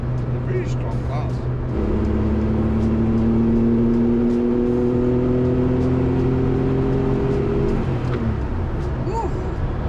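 A 1972 Porsche 911 Carrera RS 2.7 engine hums and rises into a sustained rev, with a steady tone climbing slightly before settling back.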